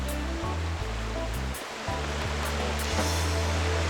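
A waterfall in a forest habitat of Japanese macaques, a steady loud rushing roar of falling water filling the scene throughout, with low rumbling surges and no voices.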